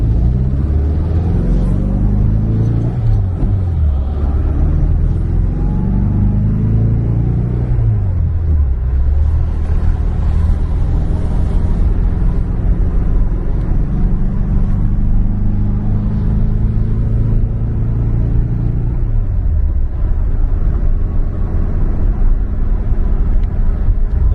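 A mid-engine Porsche 914/4 drives by with a loud, continuous engine rumble that rises and drops through several gear changes, mixed with wind buffeting. No voices are heard.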